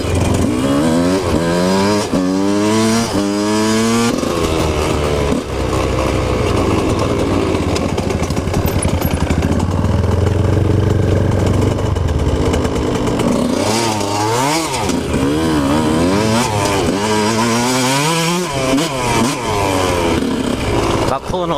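A motorcycle engine drones and revs steadily on the F trail, a dirt path at Monster Mountain in Durham Town Plantation, loud and close throughout, with the pitch rising and falling as the rider shifts and accelerates.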